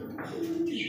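A blue magpie pigeon gives a single short, soft coo, close by, with a voice talking faintly over it.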